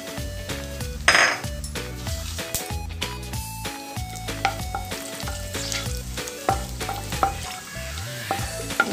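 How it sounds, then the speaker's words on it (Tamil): Cinnamon, cardamom, cloves and cumin frying in a pan, a steady sizzle broken by repeated scraping and clanking of a spoon or spatula against the metal pan, close and without talk. "2 பட்டை, 1 ஏலக்காய், 3 கிராம்பு, கொஞ்சோண்டு ஜீரகம். ஸோ இதெல்லாம் நல்லா பொரியட்டும்."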